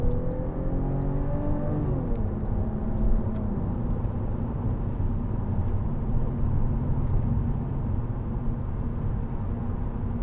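A 2006 Audi A4 Cabriolet 3.1 FSI S Line driving on the road, its engine note rising and then dropping at a gear change, then settling into a steady drone under road and tyre noise, with no talking.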